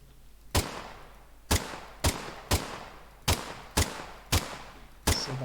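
Gunfire in an Unreal Engine 5 multiplayer third-person shooter: eight loud, sharp single shots fired at an uneven pace, each with a short decaying tail, over a steady low hum.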